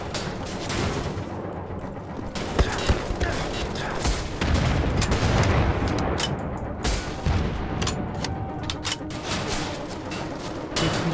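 Heavy gunfire from Wolfenstein: The Old Blood, with dense, continuous bursts of shots and thuds filling the whole stretch, loud and close, and occasional voices underneath.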